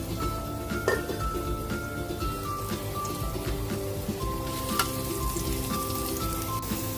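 Garlic sizzling in hot cooking oil in a pan for chicken tinola, a dense continuous crackling hiss with faint clinks, close and steady throughout.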